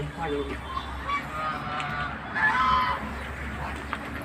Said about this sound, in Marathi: इकडे राजहंस आहेत